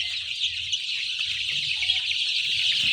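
Sonali classic hybrid chicks chirp continuously in a dense, high-pitched chorus, steady and fairly close, with a low background rumble beneath.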